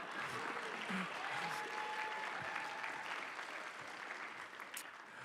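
Applause from an audience at an innovation competition night in Dearborn, steady and fairly distant, holding evenly for several seconds without voices.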